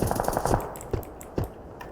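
Gunfire in PUBG Lite, a rapid close burst of automatic shots followed by two separate single cracks, loud and without talk.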